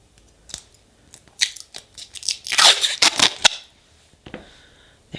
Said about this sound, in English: let's take the plastic off of this